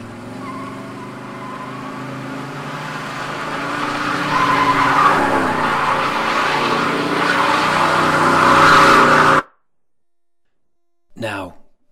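Car skidding in a Silent Hill 2 cutscene as James drives toward Toluca Lake, a rising engine roar with squealing tires building over several seconds, then abrupt silence and a brief final burst, loud and close.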